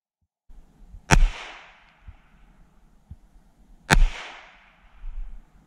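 Two loud, sharp pistol shots from a Sig P365XL firing Speer Gold Dot rounds outdoors, spaced about three seconds apart, each with a ringing decay and quiet pauses between.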